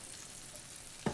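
Olive oil in a pan on a stovetop burner gives a faint, steady sizzling hiss, with a single soft clink near the end.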